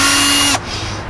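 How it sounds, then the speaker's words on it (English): A power drill fitted with an 11/64 bit drilling holes in PVC for a homemade deer feeder: a loud, close whine that runs steadily, then cuts off abruptly into a softer wind-down. "We're gonna use the 11/64 drill bit."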